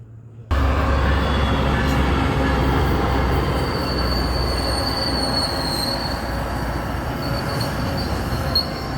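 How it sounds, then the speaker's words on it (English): MBTA Needham Line commuter train arriving at Roslindale station, close and loud, with steady rumbling and long high-pitched wheel squeals that rise and persist across the whole stretch. "There'll be a passenger train along momentarily."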